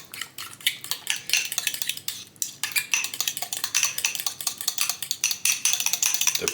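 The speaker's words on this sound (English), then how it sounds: "then just give that a mix." A whisk or spoon scrapes and clinks steadily against a bowl while gluten-free beer batter is mixed, a quick continuous rhythm of close, bright clatter with no voices.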